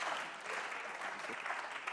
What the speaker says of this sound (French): on applaudit quand même le frère Cordel.